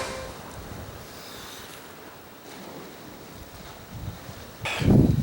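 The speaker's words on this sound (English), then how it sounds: "I hope the wind isn't too bad" Wind gusts outdoors during an exercise workout, a steady breathy rush buffeting the microphone, swelling into a louder gust near the end; no talking.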